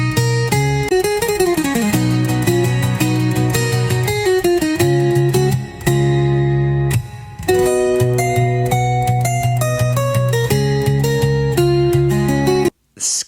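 Bright, clean electric guitar plays quick melodic runs and sustained notes with a touch of reverb, loud and close, no voices.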